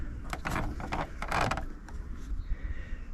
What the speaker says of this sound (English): The door handle just pulls back and away.